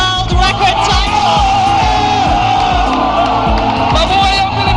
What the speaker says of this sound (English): the players cheered and cries of "Long live the Philippines" rang out from the crowd